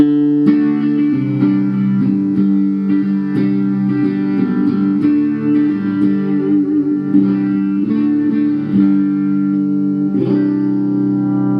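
A clean Spitfire electric guitar with a P90 pickup strums warm, full chords with a bright, slightly gritty single-coil edge, ringing steadily with no voices.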